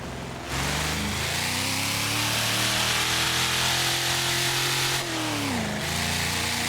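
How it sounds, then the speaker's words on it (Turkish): A Ford Mustang engine in the driving game Assetto Corsa revving hard, a loud, sustained mid-pitched roar that climbs, holds, and dips briefly before rising again, with no talk over it. "Araba çok bağırıyor ama bir de kayıyor araba."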